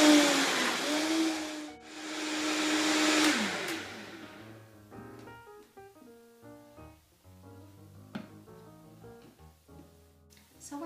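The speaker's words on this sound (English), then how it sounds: "Once we're done blending, if you've used a high power blender, you'll be done." High-power blender whirs loudly while blending almond milk, a rising and dipping roar over a few seconds that winds down, followed by quiet clinks and background music.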